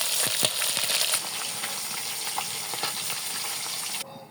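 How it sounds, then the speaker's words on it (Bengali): Fish frying in oil makes a continuous close sizzle with a few sharp spatters early on, then fades suddenly to a faint hiss at the end. "আমার মাছ ভাজা হয়ে এসেছে"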